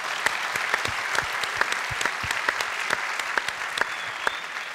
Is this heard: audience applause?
yes